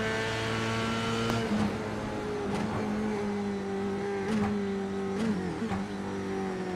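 An onboard GT race car engine in a racing video game, revving hard with a steady droning tone that dips and climbs through several gear shifts, loud and close throughout.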